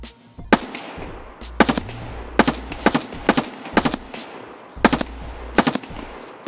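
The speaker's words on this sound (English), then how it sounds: "Who I'd killed with some blind shots through a tree" Automatic gunfire in the video game Escape From Tarkov, several sharp, loud bursts of rapid shots separated by short pauses.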